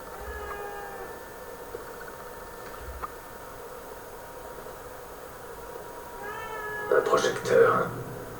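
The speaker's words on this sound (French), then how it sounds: "Un chat." A cat meows in The Evil Within 2, a couple of short cries rising near the end over a quiet, humming game ambience, with speech nearby.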